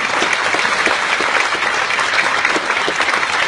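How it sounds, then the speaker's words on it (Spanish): An audience at a book presentation claps continuously, a thick, uniform wash of many hands at steady volume with no talk over it. "para que les pido un especial aplauso."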